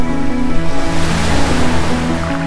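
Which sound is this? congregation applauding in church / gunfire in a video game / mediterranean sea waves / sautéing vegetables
mediterranean sea waves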